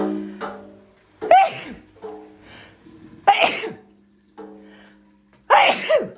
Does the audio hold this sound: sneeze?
yes